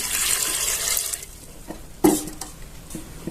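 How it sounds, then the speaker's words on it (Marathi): A brief rush of water pouring into a metal pressure cooker holding pigeon pea pods, followed by a few hollow clunks and knocks. "एक तांब्या पाणी घालून घ्यायचे"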